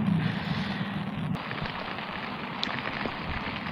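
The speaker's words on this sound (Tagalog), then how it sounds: "Ang lakas ng ulan mga master." Heavy rain pours steadily during a typhoon in a city street, a dense continuous hiss of downpour at close range with a low rumble beneath, no voices.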